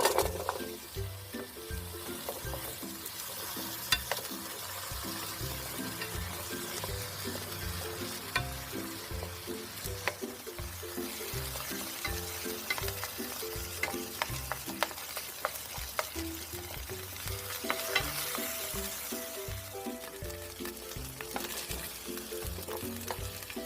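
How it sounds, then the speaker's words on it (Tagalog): Potatoes and carrots pan-fry in hot oil in a wok, a dense continuous sizzle with frequent stirring clatter throughout, close and even, with no talking. "Ipa-pan fry lang natin yung mga vegetables, yung patatas and carrots."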